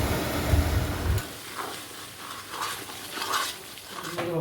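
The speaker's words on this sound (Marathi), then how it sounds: "ताटामध्ये मसाले घालून घेतले होते तर ते फोडणीमध्ये घालून घेत आहेत" Spices added to hot oil with garlic for a tempering, for Diwali chivda, frying with a sharp sizzle that starts loud and settles into a steady crackle and hiss, close up with no talk.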